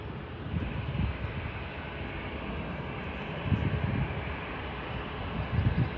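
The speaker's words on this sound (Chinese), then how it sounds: "这架湖南航空的飞机就起飞完成了" A Hunan Airlines passenger jet takes off at Kunming Changshui Airport, a distant, steady engine roar that swells and rumbles in low surges, heard alone without talk.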